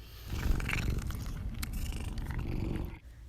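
A pet cat purrs close to the microphone, a steady low rumbling drone that runs on for a few seconds without any talk.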